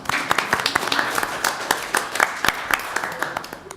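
Clapping from a modest audience at a Student Government Day proclamation event, individual claps standing out as uneven sharp bursts rather than a dense wash, fairly close and continuous.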